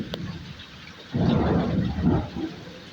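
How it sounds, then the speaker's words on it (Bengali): Heavy rain pours down with low rumbling thunder, building to a loud, steady roar partway through and continuing as a dense wash. "আজকে এত ঝমঝমে বৃষ্টি"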